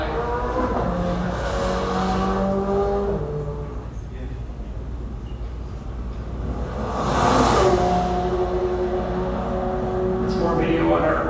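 A Corvette passes on a development test course, its engine note swelling to a loud peak mid-pass and easing off, with a second rise near the end; people talk over the car throughout.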